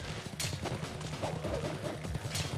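Horse hooves clip-clopping in the action game Ninja Gaiden Sigma, a quick, rhythmic clatter of hoofbeats that stays fairly loud and steady throughout the short burst.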